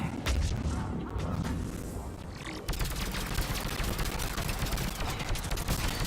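Sustained turret gunfire in the sci-fi shooter Mass Effect 3, a dense, continuous loud barrage with rapid crackling impacts running throughout, no speech over it.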